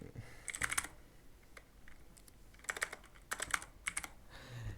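A username is typed on a computer keyboard in short bursts of quick, close key clicks separated by brief pauses.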